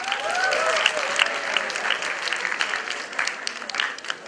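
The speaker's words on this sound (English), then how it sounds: "Please welcome her with a huge round of applause." An audience at a school innovators' conclave applauds to welcome a student presenter: a dense, steady round of clapping that holds for several seconds, with a faint voice briefly at the start.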